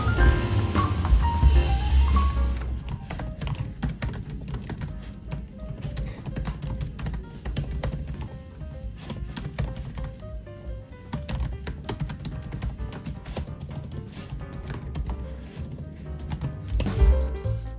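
Steady, fast typing on an ASUS VivoBook A1502ZA laptop keyboard, with close, dense key clicks running continuously with no talk over them.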